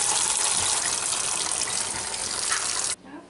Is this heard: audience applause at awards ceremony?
no